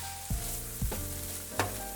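Washed curry leaves fry in a pan with a steady sizzle, broken by three sharp clattering stirs against the metal.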